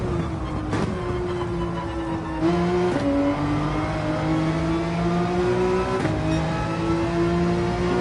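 Race car in Gran Turismo 7 revving loudly through gear changes, the engine note climbing steadily, dropping with each shift between first and second, then climbing again under throttle.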